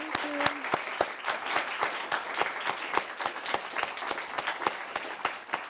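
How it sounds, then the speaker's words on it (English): A small audience gives a final round of applause to an author after a talk on writing and publishing a book; crisp, distinct hand claps patter at a brisk, uneven rhythm, moderately close. "can we just finish with one final round of applause for Helen?"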